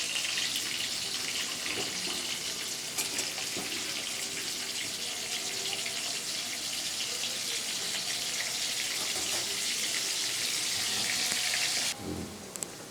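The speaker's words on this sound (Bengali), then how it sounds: "এবার আলুগুলোকে হালকা লাল লাল করে ভেজে নেব" Potatoes being fried in a pan for a chicken curry, giving a steady, loud, continuous sizzle with no talking, which stops abruptly near the end.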